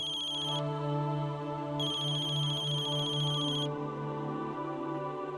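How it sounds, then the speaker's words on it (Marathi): An electronic phone ringtone plays a repeating melodic pattern, clear and fairly close, with a brief pause before it resumes. "आता कुणाचा फोन?"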